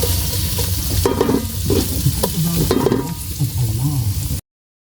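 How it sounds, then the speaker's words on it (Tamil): Onions sautéing in a pan for chicken dum biryani give a loud, continuous sizzle, with stirring scrapes and clatter over it, until the sound cuts off abruptly. "வெங்காயத்தை போட்டுக்கிட்டு நல்லா வதங்கட்டும்."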